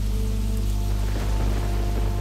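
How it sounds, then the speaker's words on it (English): Steady rain in the PC horror adventure game Fear for Sale: Sunnyvale's Story, a constant dense patter of drops with a low background hum, even and unbroken throughout. "That fruit must be loving this rain."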